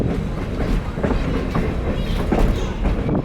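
A special train rumbles past at close range with a loud, steady roar of rail cars and rhythmic clickety-clack of wheels over the track joints.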